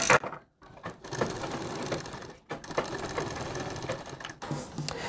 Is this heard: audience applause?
no